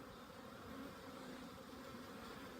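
Honey bees from an open hive drone during an April inspection, a steady, dense buzz that fills the whole stretch without a break.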